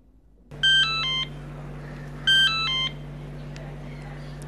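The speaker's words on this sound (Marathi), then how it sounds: "चायला बहादूरच्या चायला फोन कट करतो" Telephone beeps sound as a call is cut off: two short bursts of clustered electronic tones, about a second apart, over a steady low hum in an indoor TV serial scene.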